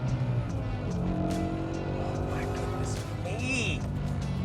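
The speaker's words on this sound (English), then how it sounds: "it's got an exhaust that's slightly tuned to make it very, very" Jaguar with uprated springs and a slightly tuned exhaust at a Jaguar club day revs loudly nearby, rising and falling engine tones that fill the whole stretch with a steady rumble.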